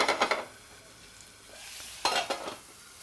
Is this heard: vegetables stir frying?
yes